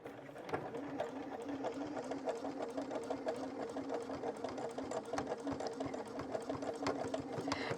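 A sewing machine stitches buttonholes on a dress in a continuous, fairly quiet, rhythmic mechanical chatter with fine repeated clicks.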